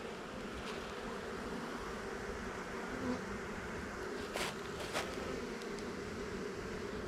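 Bees drone in a low, continuous hum at a nearly empty hive short on nectar, a soft steady buzz with a few louder passes close by, no voices.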